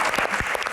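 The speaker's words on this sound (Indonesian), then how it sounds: "tepuk tangan sekali lagi yang paling meriah teman-teman" A crowd at a live Q&A event applauds a guest, a brief burst of thick, continuous clapping at close range.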